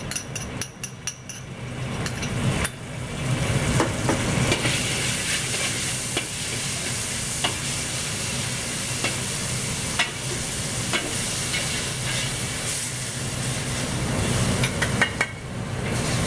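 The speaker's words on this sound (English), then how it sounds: "I'm going to stir fry the baking sauce" Black bean sauce sizzles in hot oil in a pan as it is stir-fried, a continuous close hiss with occasional scraping clicks of the utensil, steady throughout and with no voices.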